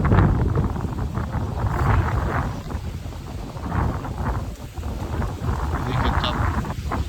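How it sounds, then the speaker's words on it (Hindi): Strong, gusty wind blows across an open farm, roaring steadily into the microphone as a loud, unbroken rumble that never lets up. "भयंकर तरीके से हवा चल रही है।"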